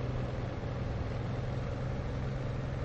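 A WWII propeller aircraft engine in the DCS World flight sim game, a steady low droning hum held at even loudness with no talk.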